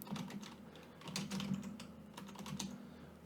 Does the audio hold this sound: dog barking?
no